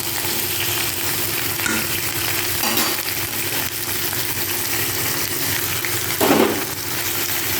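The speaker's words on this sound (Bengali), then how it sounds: "ভালো করে তেলের সঙ্গে কষিয়ে নিয়ে বেটে রাখা মশলাটা দিয়ে দিলাম।" Ground paste of ginger, onion, cumin and chilli frying in oil with potato and pointed gourd, a loud dense sizzle with occasional stirring scrapes and a brief louder burst near the end; no speech.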